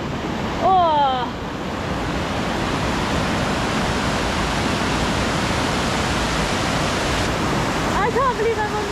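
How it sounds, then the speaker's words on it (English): Mackay Falls, a waterfall on a river along the Milford Track in New Zealand, roars as a loud, steady broadband rush close by, with a brief vocal exclamation near the start and another near the end. "So I believe this is Mackay Falls."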